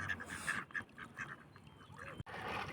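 Ducks quacking in short bursts with some honking, moderately close, amid splashy outdoor background noise and no talk.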